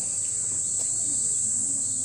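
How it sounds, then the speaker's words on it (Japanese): Cicadas buzz outdoors on a humid summer day in Yamanashi, a steady continuous high-pitched drone that holds at an even level throughout, with faint background sounds underneath. "あとセミの声と。"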